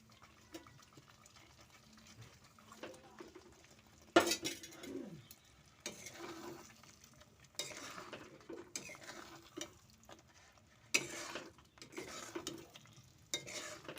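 Paneer fries lightly in oil in a pan, a soft, faint sizzle under intermittent scraping stirs and clinks of a utensil against the pan, coming in short bursts every second or two.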